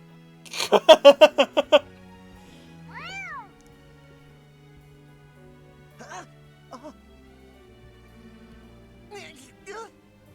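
Meowing from a cat in the video game Fire Emblem: Three Houses, a quick burst of several loud meows at the start followed by a few fainter, scattered meows and short vocal sounds later on.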